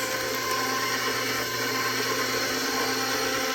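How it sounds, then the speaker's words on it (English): A stand mixer with its whisk attachment runs in a steady, loud, close whir that stays even throughout with no pauses. "I will attach the whisk and get this going"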